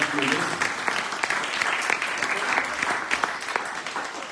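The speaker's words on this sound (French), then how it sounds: "Vous pouvez les applaudir d'ailleurs." An audience at an AIDS-prevention conference in Essaouira claps steadily throughout, a dense patter of many hands at moderate volume with no pause.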